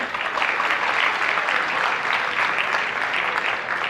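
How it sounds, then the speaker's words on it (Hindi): An audience at a book festival in Goa claps to welcome a speaker, a dense, even roar of many hands held at a steady loud level throughout, with no voice rising above it. "एक बार फिर से जोरदार तालियों के साथ स्वागत"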